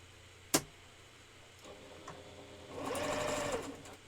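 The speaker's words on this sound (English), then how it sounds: "I gotta just sew this down so it doesn't ever come off." A sewing machine runs a short burst of stitches on fursuit tail belt pieces, a quick soft whirring rattle after a sharp click and some quiet handling, close and faint.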